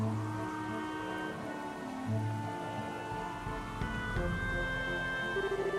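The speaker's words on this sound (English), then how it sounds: "You didn't have to come out here in the rain." Steady rain in the video game Trails in the Sky the 3rd, a dense continuous patter under sustained tonal music, with no voices.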